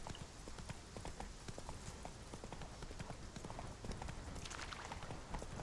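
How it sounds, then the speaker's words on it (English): Steady clip-clop of horse hooves trotting along a path in The Witcher 3, a continuous rhythmic series of close hoofbeats over game ambience with faint background sounds. "sometimes driving this horse, or riding this horse, it sometimes just decides not to follow the path"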